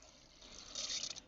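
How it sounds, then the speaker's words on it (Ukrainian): Syringe-measured plant feed squirted into a container of water: a short, soft hiss of liquid rises and builds to a brief splashing pour, close but quiet, with no talking. "І додаю до води."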